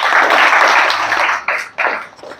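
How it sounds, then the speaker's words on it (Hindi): Classroom applause for a student, a burst of loud clapping from a group that breaks off briefly and resumes in a couple of short rounds. "चलिए इनके लिए भी ताली हो जाए।"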